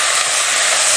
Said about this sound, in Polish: kto smaży kapustę kiszoną, wie, że ona trochę hałasuje